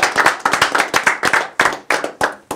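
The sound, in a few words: people clapping hands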